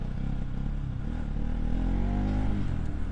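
A Bajaj Pulsar NS200 motorcycle engine runs at idle, a loud, close, steady low thrum with a brief rise in revs near the end, no talking over it.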